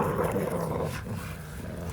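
Bully dogs growling low and rough at each other while playing, a continuous rumbling snarl at moderate distance with no talk.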